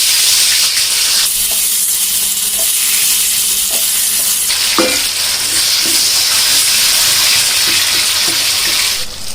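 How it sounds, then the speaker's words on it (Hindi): Potatoes frying in a pan with a loud, dense sizzle that runs the whole time, close up, with stirring scrapes and small clatters breaking through now and then. "तो सबसे पहले हम आलूओं को फ्राई कर"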